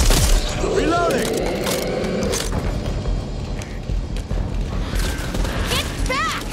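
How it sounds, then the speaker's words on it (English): A gun is reloaded in the co-op zombie shooter Back 4 Blood, a series of mechanical clicks and clacks of the weapon action under loud, busy game ambience with other voices and effects around it. "Reloading."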